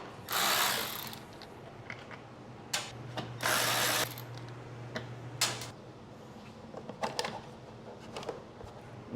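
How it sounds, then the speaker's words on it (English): Ratchet driving a 3/8 socket to remove the cover on a Craftsman 28-inch snow thrower: a few bursts of rapid ratcheting clicks, close and fairly loud, separated by quieter handling noises. "we have to take off this cover, and it should be just a 3/8 socket"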